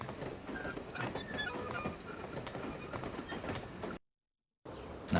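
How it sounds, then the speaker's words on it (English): Train rolling along rails in the video game No One Lives Forever, a steady loud rumble with faint rhythmic clatter and metallic squeals, broken by a brief silence near the end before resuming. "I must stop this train."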